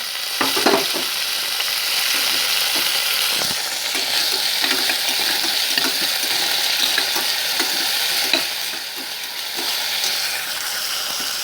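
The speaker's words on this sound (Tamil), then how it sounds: "தக்காளியும் பச்சை மிளகாயும் போடுறேன். தக்காளி நல்லா குழையட்டும், அது வரைக்கும் நல்லா கிளறலாம்." Tomatoes, green chillies and mint fry in hot oil in a pan, giving a steady, loud, close sizzle with hiss throughout, broken by repeated scraping and clinking as a spoon stirs them. No one speaks.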